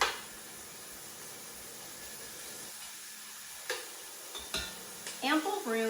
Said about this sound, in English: our onions have been cooking for about 3-4 minutes